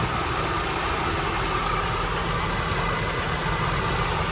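A Korean-brand five-seat sedan idles steadily, its engine giving a smooth, even, continuous hum close up, with no talking.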